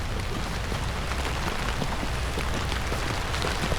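Steady rain patters densely on a surface, a continuous close hiss with scattered drops and no voices.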